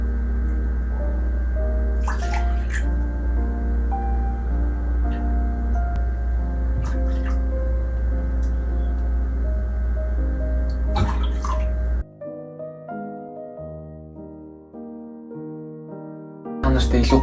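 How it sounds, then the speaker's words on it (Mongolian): Homemade Naruto-style ramen broth poured straight over seasoning in a bowl, a steady liquid splash under a constant background hum for about twelve seconds, then the pour stops and quieter kitchen sounds follow. "Гаргаж авсан шөлөө. Энэ амтлагчаа хийсэн юм дээрээ шууд ингээд гоё ингээд асган заяа."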